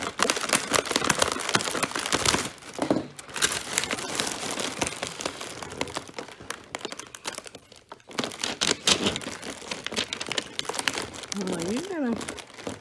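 A cut vinyl or paper design being peeled from its backing sheet, with crinkling and crackling in bursts and short pauses, close and fairly quiet, with a voice briefly heard near the end.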